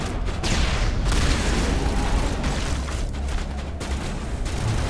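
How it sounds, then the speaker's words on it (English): Grenade explosions and gunfire in the video game Mass Effect, a dense continuous rumble of booms and blasts at high loudness, with no talk over it. "I'm so bad at using the grenades."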